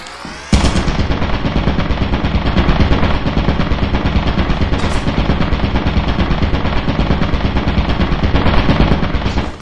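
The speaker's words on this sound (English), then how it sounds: "Oh, there's a turret here." Continuous loud automatic fire from a turret in Lethal Company, a dense rapid stream of shots starting abruptly and running unbroken for nearly ten seconds, close and dominant.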